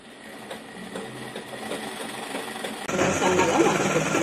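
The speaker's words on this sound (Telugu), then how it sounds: "ఇలా సన్నగా మలుచు కుట్టుకోండి." A sewing machine stitches a thin fold on a small child's frock, a steady close mechanical whirr that grows louder partway through, with someone talking over it.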